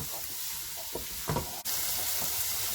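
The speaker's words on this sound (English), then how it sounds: "4 cloves of garlic. Stir and fry for about 5 minutes" Garlic cloves sizzle steadily in a hot pan while a utensil stirs them, with a few soft scraping strokes through the close, continuous frying hiss.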